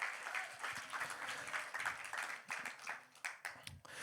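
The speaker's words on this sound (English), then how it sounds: "Clap for me. Clap for me." Faint audience clapping at a church youth service patters on for a few seconds, uneven and somewhat distant, with no voices over it.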